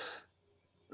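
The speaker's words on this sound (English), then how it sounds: "Cashew went down the wrong pipe." A short throat-clearing cough from someone choking on a cashew, followed by a quiet pause and a second brief cough at the end, close to the microphone.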